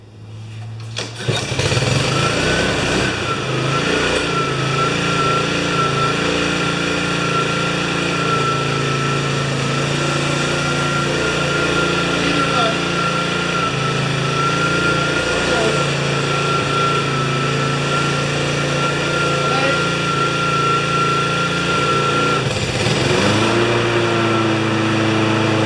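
Small engine of a Craftsman EZ Walk lawn mower, freshly tuned up with new oil and plug and a sharpened blade, starting and then running steadily at a high, even idle for about twenty seconds before cutting out, loud and close.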